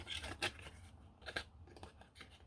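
Scissors snip off paper flaps from a handmade ephemera card in a few quick, crisp, faint cuts, each a short crunchy slice, close up and quiet.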